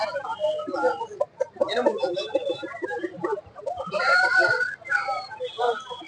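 A rooster or hen at a poultry sale clucks and calls repeatedly in close, irregular bursts, with other fowl and murmuring voices in the background.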